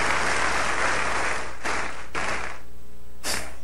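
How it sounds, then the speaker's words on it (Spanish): A congregation claps loudly during a Bible study service, a thick continuous roar of applause that breaks off briefly twice and then surges again near the end. "Denle un buen aplauso al Señor."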